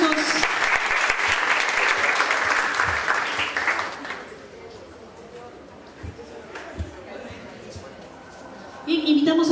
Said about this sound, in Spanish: Eso, fuertes aplausos.